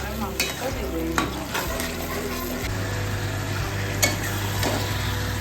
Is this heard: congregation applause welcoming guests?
no